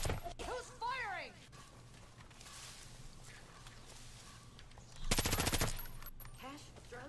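Gunfire in Far Cry 5, a loud close burst of rapid automatic fire in the middle, with scattered shots and game sounds around it, alongside voices.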